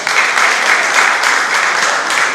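Audience applause at a Yoruba Day celebration, a loud, close, continuous burst of many hands clapping with no voices over it.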